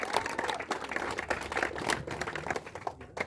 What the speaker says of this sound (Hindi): आप लोग तालियां जोर से बजाएंगे